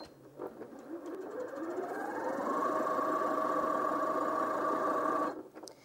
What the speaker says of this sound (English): it's just sewing 3 stitches on the spot